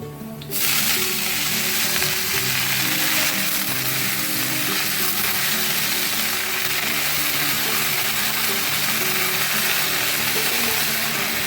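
A loud, dense sizzle erupts as leafy greens drop into a pan of hot oil and keeps up a steady roar of frying for several seconds, close up and with no talk.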